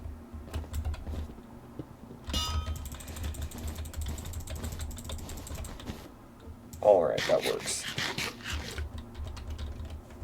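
Computer keyboard keys clicked rapidly while playing Bedwars, with clusters of quick clattering taps near the microphone and a person talking briefly between them.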